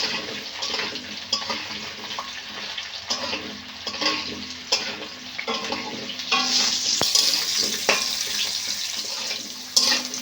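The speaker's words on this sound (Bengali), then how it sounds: "আলুটা বেশ একটু লাল লাল করে ভালো করে ভেজে নিতে হবে" Small diced potatoes frying in a pan until reddened, with a continuous close sizzle and hiss that swells louder midway, plus occasional stirring scrapes and no talk.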